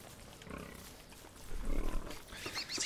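Pigs in the game Don't Starve Together grunting and snorting in low, rough bursts, several animals close by, over a busy game background.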